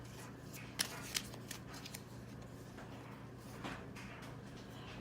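Tarot cards shuffled and drawn, with a couple of sharp snaps of cards and soft sliding, riffling rustles at low level in a quiet room.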